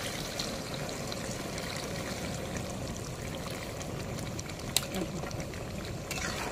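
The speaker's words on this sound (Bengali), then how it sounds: "একটু জল দিয়ে নামিয়ে নেব। এবার জল দিয়ে দেব।" Water pours steadily into a cooking pot while a large meal for fifty people is being made, a continuous rushing, splashing wash lasting throughout with a faint clink near the end.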